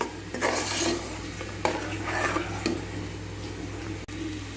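Ground masala paste fries in a pan for mint pulao, giving a steady soft sizzle with occasional stirring scrapes and a low hum behind it, with no voices.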